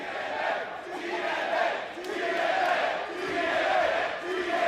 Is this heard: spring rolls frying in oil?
no